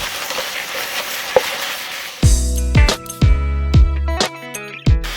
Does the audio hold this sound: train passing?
no